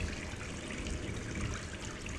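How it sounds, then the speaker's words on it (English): A household tap left running in Gone Home produces a steady, close hiss of splashing water that continues without a break. "leave the water running."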